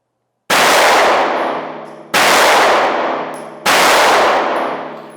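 Three sharp shots from a backup handgun ring out at even intervals, each ending in a metallic clang from steel targets and a long decaying ring, loud and close.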